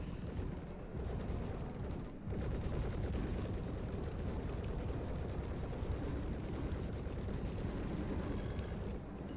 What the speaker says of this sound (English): Gatling gun on it because I heard they got buffed